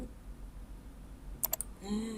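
A few quick computer keyboard presses click near the mic against a low hum of room noise, a short tight burst of two or three taps during Photoshop editing.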